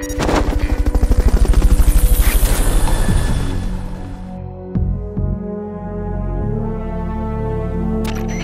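A loud, close helicopter in Metal Gear Solid: Peace Walker with a fast pulsing rotor chop that swells and then fades into a low hum, with a few sharp clicks near the end.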